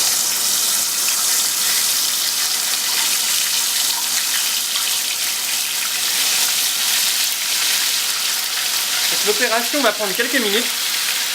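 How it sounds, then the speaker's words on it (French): Tomato peels deep-frying in oil heated to 160 degrees make a loud, steady, dense sizzle throughout, and someone speaks briefly over it near the end. "Donc maintenant, on va plonger des épluchures de tomates."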